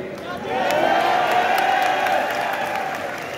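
A literary festival audience in Quetta breaks into loud, dense crowd applause mixed with cheering, a steady wash of clapping that swells after the first half second and holds, with voices carried in the noise.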